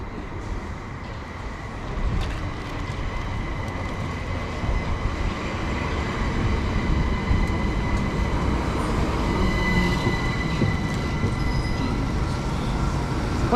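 A Southern class 377 electric train on the Horsham to London Victoria service pulls into a station, a steady loud rumble of wheels and motors with faint squeals and hiss building as it rolls in close by.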